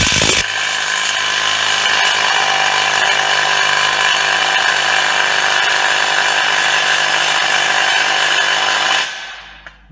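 An Einhell TE-CI 18 Li brushless cordless impact driver tightens a screw, giving a loud, close, continuous ratcheting hammer rattle that holds steady for about nine seconds before cutting off abruptly.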